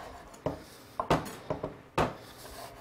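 A knife chops bacon finely on a board, with six crisp, close taps in an uneven rhythm and no talking.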